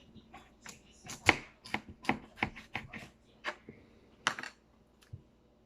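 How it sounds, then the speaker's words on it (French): A knife slicing through a potato on a small cutting board, heard as a series of sharp, close chopping clicks in an irregular rhythm, with no talking. "On va couper la pomme de terre en deux."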